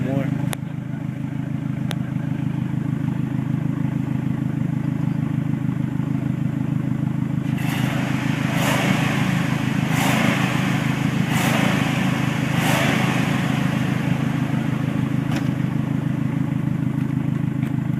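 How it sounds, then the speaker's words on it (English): A car engine revs after a Sea Foam treatment, idling roughly at first and then rising in several loud repeated revs, with a steady rumble between them and faint voices in the background. "That thing's revving up like a champ, dude."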